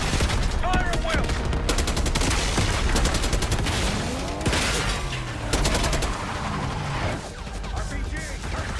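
Heavy gunfire in the Call of Duty Black Ops 6 campaign: sustained rapid bursts from several weapons roll on without pause, mixed with blasts and shouted radio chatter, loud and close throughout.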